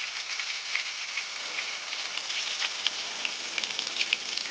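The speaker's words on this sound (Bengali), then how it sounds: "মাছগুলোকে মিডিয়াম ফ্লেমে ভাজতে হবে, বেশি হাই ফ্লেমে দিলে" Small whole fish crackle and spit as they fry in hot oil over a medium flame, a steady dense sizzle with scattered sharper pops, close and alone.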